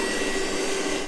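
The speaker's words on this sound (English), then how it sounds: "It's one of my favorite shop accessories, a battery powered vacuum." A battery powered vacuum cleaner whines steadily in a workshop, a loud, close, continuous motor drone with a high pitched tone and no talk.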